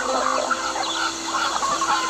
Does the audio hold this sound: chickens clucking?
yes